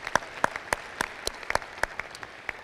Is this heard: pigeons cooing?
no